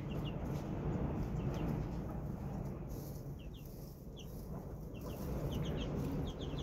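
Free-range hens on a farm cluck softly at a distance over a constant low rumble of background noise, with brief calls scattered throughout.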